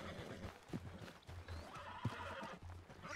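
A horse in the Red Dead Redemption 2 video game, during ranch work, gives repeated whinnies and snorts over a steady clip-clop of hooves, close and clear, with no talking.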